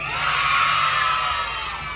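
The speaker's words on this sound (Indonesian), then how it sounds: "Kita berikan tepuk tangan yang meriah sambil teriak, yeay!" A large crowd of children at a school Islamic celebration event cheers and shouts in a loud, sustained roar, with clapping blended into the continuous noise.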